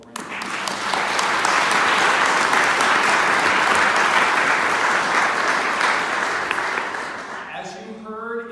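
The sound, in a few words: audience applause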